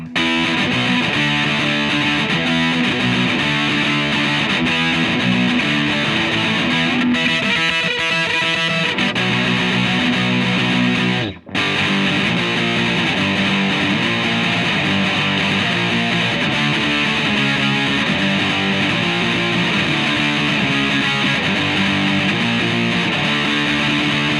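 Electric guitar through a Boss DS-1 distortion pedal, heavily distorted, plays a continuous chugging punk riff with thick sustained chords, loud throughout, briefly cutting out for a split second midway.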